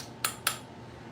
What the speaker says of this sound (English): Now I'm going to go ahead and add my powdered erythritol and stir.